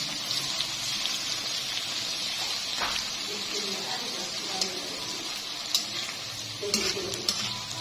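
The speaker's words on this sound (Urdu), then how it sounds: "اور یہ پیسٹ شامل کر کے تھوڑا سا فرائی کر" Garlic and ginger paste frying and sizzling with mutton pieces in a home kitchen, a steady close hiss broken by scraping stirs of a spoon against the pot, with no talking.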